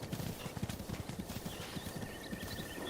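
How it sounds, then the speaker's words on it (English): Horse hooves clip-clop steadily in The Legend of Zelda: Breath of the Wild in Master Mode, a quick, even gallop rhythm of soft thuds over a constant outdoor ambience. "I'm going to ride this horse."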